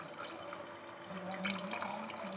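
Water is poured into mutton biryani rice in a cooker, a steady soft splashing and gurgling of liquid filling the pot, fairly faint with a slight swell midway.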